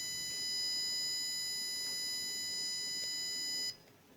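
An Arduino-built security alarm sounds a steady, piercing electronic tone, loud and close, that cuts off abruptly near the end, leaving a faint hum.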